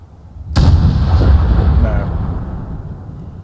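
A single sniper rifle gunshot in Fallout 4, a sudden loud close boom that cuts in after a brief quiet and rolls off into a long echoing tail.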